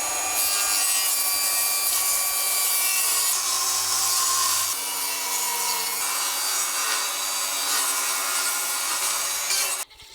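Salvaged plywood is cut with a saw close by, a continuous rasping, grinding cut that changes tone partway and stops abruptly near the end, with no voices.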